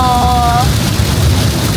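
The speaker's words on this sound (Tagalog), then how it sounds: "Oh, ang lakas ng ulan." Heavy rain drums steadily on a moving car during a road trip, forming a loud, continuous wash, with a brief tonal beep near the start.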